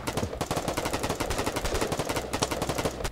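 Gunfire in the video game Foxhole rattles off in rapid, dense machine-gun bursts, a loud continuous stream of sharp shots with no pause throughout.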